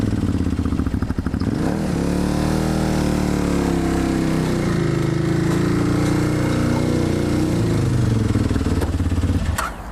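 A motorcycle engine labors up a loading ramp into a truck bed as the clutch is feathered out slowly, a loud, close, steady drone with slight rises and dips in pitch, then a clattery cut-off at the end.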